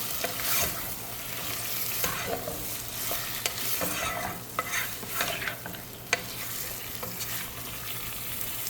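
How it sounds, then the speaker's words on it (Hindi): Garlic ginger paste frying in a pan for mutton curry, with a dense sizzle and repeated scraping stirs up close and no talking. "और 1 टेबल स्पून लहसुन अदरक का पेस्ट डाल देते हैं और इसे हम फ्राई कर लेते हैं।"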